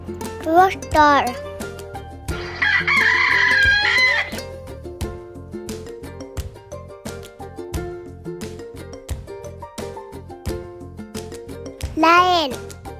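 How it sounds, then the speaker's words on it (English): A rooster crows in a long, loud call over a cheerful children's music track, followed later by another rising squawk; clucking bird sounds and a voice weave through the steady backing music. "rooster,"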